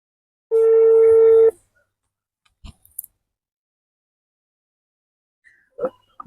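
Touch-tone telephone keypad dialing: a single long, loud steady tone lasting about a second, followed by a few faint ticks and clicks and a brief voice later.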